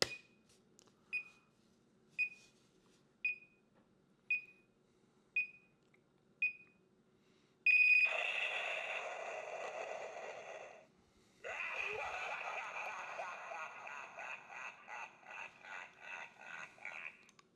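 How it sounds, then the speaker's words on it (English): An electronic Green Goblin pumpkin bomb toy gives seven evenly spaced timer beeps, then a loud burst of blast effects and a cackling laugh, all close and clear with no one talking. "So the timer goes off, the bomb goes off, and then we got the Green Goblin laugh just by sensor activation."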